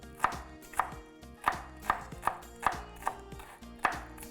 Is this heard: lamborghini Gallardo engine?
no